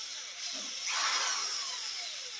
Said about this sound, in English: I'm just going to drill very, very slowly. This is a quarter drill.